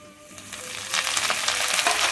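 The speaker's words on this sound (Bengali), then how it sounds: "এটাকে আমি 1 মিনিট পর্যন্ত ভাজবো।" Spices for a hot, sweet and sour pickle frying in a pan, a steady close sizzle that grows louder and crackles more after the first second, with light stirring and no talk.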